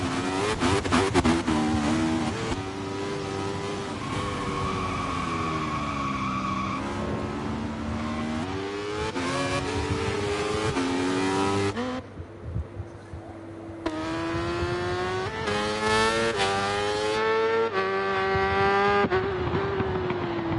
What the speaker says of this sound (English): He powers the Kawasaki down the hill into the fast left-hander.